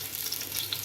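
Chopped red onion sweats with some chillies in a pan over lowered heat, giving a faint, soft sizzle that lasts less than a second and has no voices over it.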